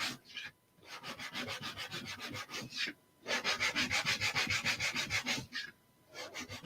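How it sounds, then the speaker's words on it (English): Hand sanding the top of chalk-painted wooden Jenga-style blocks, a rhythmic rasping scrub of quick back-and-forth strokes in three bursts separated by short pauses, close and clear with no talking. "So I'm just giving the top side just kind of a light sand."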